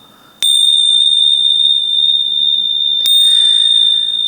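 Two bell strikes ring out clearly, each a sharp attack followed by a long, pure sustained tone that hangs in the air, with a second strike about two and a half seconds after the first.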